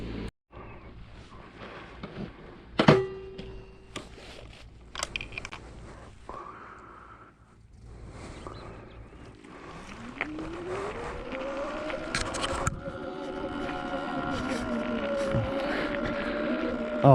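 A Sur Ron X electric dirt bike ridden outdoors, a faint whine rising in pitch as it speeds up, with scattered knocks, clatter and outdoor noise around it.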